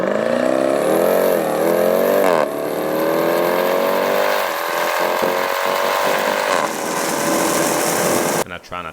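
A Jeep Trackhawk launches at a drag strip test and tune day, its engine revving hard and rising in pitch through the start, loud and close, then fading as the run continues, with a voice speaking faintly underneath.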